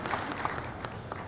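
An auto show audience claps at a Hyundai car unveiling, a short burst of steady mixed applause from a crowd in a large hall.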